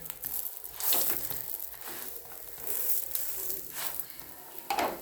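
Potato slices reheating in a pan over medium gas, a faint steady sizzle broken by soft scraping and crackling stirs at irregular moments, close and quiet with no speech.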